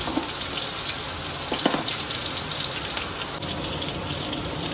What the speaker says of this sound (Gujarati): તો હવે આપણે મરચાં જે કટ કર્યા હતા એને તરી લઈશું